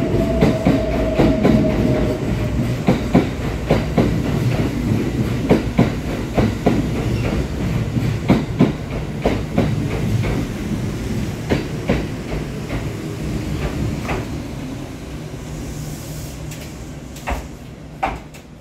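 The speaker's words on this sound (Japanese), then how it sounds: "An express bound for Nagoya is arriving" Kintetsu 1430 and 2610 series six-car express train arriving at a station platform, with loud rolling rumble and a run of sharp clacks over rail joints that slows and fades as it comes to a stop.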